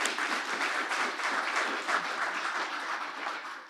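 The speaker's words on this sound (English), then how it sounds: "Big round of applause." An audience at an industry panel on safe communities and work camps gives steady applause, a soft, even wash of many hands clapping at moderate distance throughout.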